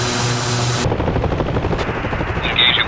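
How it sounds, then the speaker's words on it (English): Helicopter rotor thrum with bursts of gunfire in a military flight game, a steady pulsing drone under sharp shots, ending with a brief high electronic tone. "helicopters heading toward your position."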